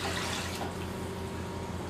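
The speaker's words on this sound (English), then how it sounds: "I'm going to pour that in the bottom of my pan." About three cups of water pour into the bottom of a roasting pan for baby back ribs, a steady close splashing stream lasting a couple of seconds with no talking.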